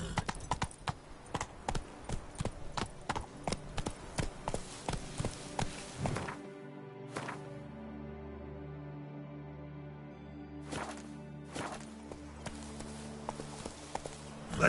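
Horse hooves clip-clop in a steady, fairly close rhythm through a Witcher 3 ride, pausing midway while a low hum carries on, then resuming with a few more hoofbeats.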